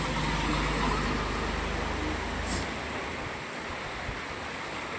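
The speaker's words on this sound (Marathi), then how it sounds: "जसं नदीला महापूर येते तसं महापूर आलेले आहे रोड कुठं आहे काय दिसत नाही" Floodwater from heavy monsoon rain rushes over a road in Pune with a continuous loud roar, while a vehicle engine rumbles low underneath for the first few seconds and then fades.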